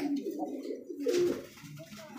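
Racing pigeons coo in a loft, soft repeated throaty calls close by, with a voice speaking faintly beneath.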